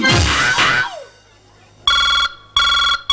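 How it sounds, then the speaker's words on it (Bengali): A telephone ringtone plays in two loud, bright electronic bursts, each about half a second long and separated by short pauses, after a moment of louder noise at the start. "ও মা রিং হচ্ছে তো"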